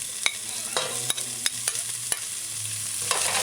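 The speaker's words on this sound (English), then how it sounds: "Stir it in, allow to saute." Diced scallion sautés in olive oil for Jamaican seasoned steamed callaloo, a soft steady sizzle broken by sharp clicks of a utensil against the pan, quiet and close with a low hum underneath and no voices.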